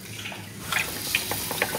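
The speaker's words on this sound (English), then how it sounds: "So this is like the cheapest, what is it, like a sprayer? Yeah. Get the air in it, and then you can spray." A cheap hand pump sprayer spraying liquid in a cottage bedroom renovation, giving a short hissing, watery spray with a few faint drips and bubbling sounds, close up, no talking.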